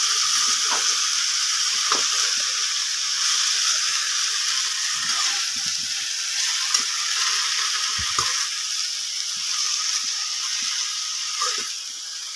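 Mixed leafy greens fry in a pan for a sag fry, crackling with a steady bright sizzle and hiss, broken by scattered soft clicks and scrapes as the greens are stirred.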